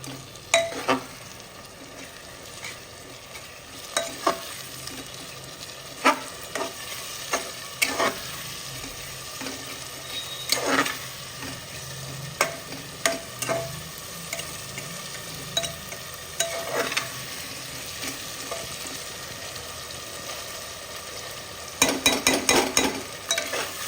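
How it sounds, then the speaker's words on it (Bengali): Mutton masala fried on high flame in a pan, a soft constant sizzle broken by repeated sharp scrapes and knocks of a spoon as it is stirred, with a quick burst of stirring near the end. "এরপর আমরা এটা ভালোভাবে নাড়িয়ে নেব এবং ফ্লেমটাকে হাই করে দেবো।"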